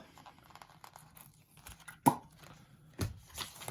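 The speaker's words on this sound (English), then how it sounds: "Let's peel that off." Sticker backing being peeled off while decorating a postcard, with quiet crinkles and small tearing sounds and a sharper rip partway through, close up and faint.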